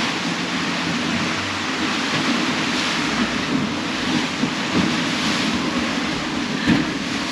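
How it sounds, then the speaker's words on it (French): Wind in the South Pacific aboard a sailing catamaran between Fiji and New Zealand, a steady loud roar of gusts and rushing sea with microphone buffeting and no voices. "Ce soir, le vent est revenu."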